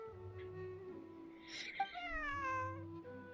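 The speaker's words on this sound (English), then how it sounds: "Hey, Northland cat." A cat meows in a video game, a single drawn-out rising and falling cry rising over steady game music and background tones.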